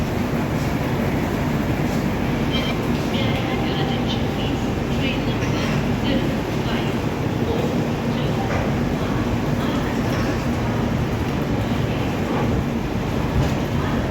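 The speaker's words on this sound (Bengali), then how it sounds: "মালদা টাউন স্টেশনে প্রায় 1 ঘন্টা বিফোরে ঢুকেছিল, এখন ছেড়ে দিচ্ছে।" Kaziranga Express pulling out of Malda Town station, a steady dense rumble of the moving train and wagons filling the whole stretch with constant, fairly loud noise.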